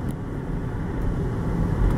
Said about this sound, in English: we're gonna get it up to about, you know, 3000, and we're gonna change gears into third gear